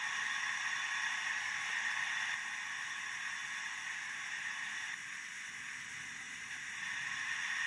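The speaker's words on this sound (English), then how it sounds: "let's try the steam injector." Steady broadband hiss of a steam injector from a sound-fitted Accurascale J68 model steam locomotive, continuous and fairly loud with slight dips in level, no talking.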